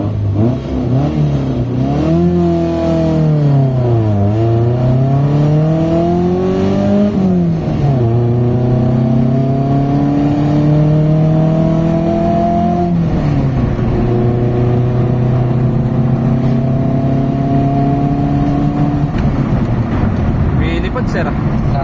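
Mitsubishi Lancer GSR car engine pulling through repeated gear shifts on a test drive, its loud, steady drone rising in pitch, dropping at each change and climbing again, captured from inside with some talk underneath.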